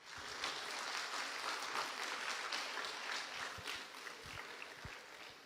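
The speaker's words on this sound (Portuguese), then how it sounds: "Você pode dar uma salva de palmas para o Senhor?" A church congregation gives a soft, steady round of applause that sounds distant and low in level, continuing unbroken for several seconds.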